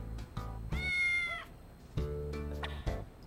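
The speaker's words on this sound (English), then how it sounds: "Wait, that cat." A cat meows repeatedly in the video game Digital Devil Saga, several close, clear, drawn-out meows in quick succession with no talking over them.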